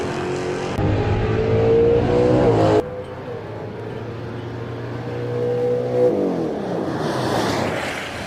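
A pro mod drag race car at an eighth-mile IHRA test session at Darana Raceway in Hebron, Ohio, roars loud and close, its engine note rising through gears, then dropping and surging again as it pulls away.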